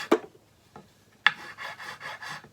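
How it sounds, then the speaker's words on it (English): A fret on a cigar box guitar is sanded down by hand, two sharp knocks followed by a run of five or six quick rasping strokes, close and clear. "We just sand it down just a touch."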